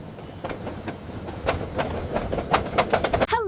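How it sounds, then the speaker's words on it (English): A train rolls past with a rhythmic clickety-clack of wheels over rail joints, the clacks growing louder and quicker before a brief high sweep at the end. "This is a train."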